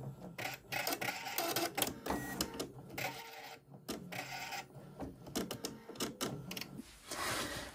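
A Husqvarna Designer Epic 3 embroidery machine stitches out a design with fast irregular mechanical clatter and whirring bursts, close by, varying in speed with short pauses.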